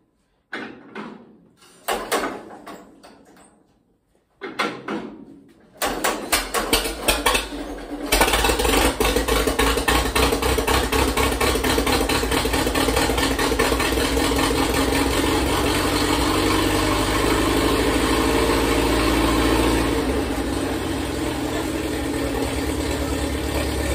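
A Pacemaker engine with a fuel problem, set to full choke, starts after a few sputtering attempts and then runs steadily at a fast idle, loud and close, with no talk.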